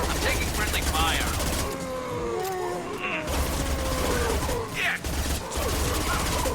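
Gunfire in Mass Effect 2, rapid volleys of shots and mechanical clatter heard near and loud throughout a busy combat scene, with brief dips between bursts.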